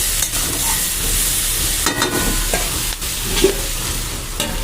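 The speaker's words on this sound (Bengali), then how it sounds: "একটুখানি লবণ দিয়ে আমি কিন্তু নাড়া দিয়ে নিচ্ছি" Pumpkin and other vegetables frying in a pan with a pinch of salt are stirred steadily, a continuous sizzle with scattered scrapes and knocks of the spoon, loud and close with no voices.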